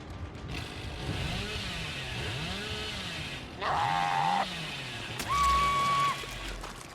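Chainsaw from the Dead by Daylight horror game revving in two short bursts, each rising sharply and cutting off, over a steady low rumble of in-game ambience.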